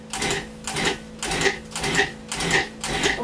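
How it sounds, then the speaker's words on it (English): Food processor pulsing scone dough of flour and butter, six short loud whirring bursts in an even rhythm, each separated by a brief pause, with no talking. "we've pulsed our dough about 30 times now"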